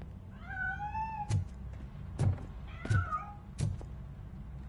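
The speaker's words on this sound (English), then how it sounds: "That cat must be hiding inside. Let me lure it out." Two meowing calls from a cat in a video game, each a clear rising-falling meow, with a few sharp thuds between them over a quiet background.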